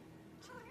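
A cat gives a single short, close meow that rises toward the end, quiet at first and then briefly louder, with no talking over it.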